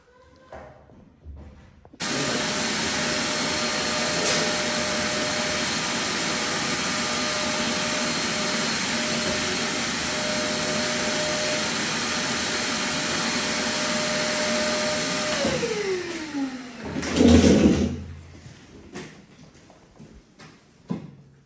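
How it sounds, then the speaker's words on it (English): A hoover vacuum switches on and runs with a loud, steady whine, sucking water out of a mezzanine for about thirteen seconds. It then winds down, and brief rustling and knocking follow. "this is the hoover we use to suck the water out"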